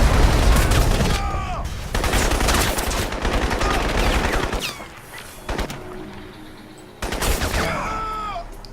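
Dense gunfire in the video game Crysis, rapid bursts and shots crackling loudly for most of the stretch, dropping to quieter moments before another loud burst near the end.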